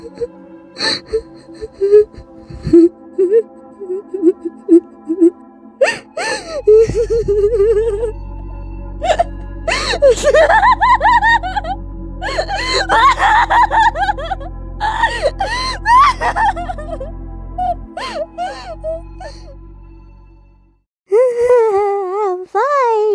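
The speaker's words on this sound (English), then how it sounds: "I put my heart and soul into that scream, bro." A voice actor lets out loud, strained screams and wailing cries in repeated bursts, with short gaps and a few gasps between them and a steady low hum underneath.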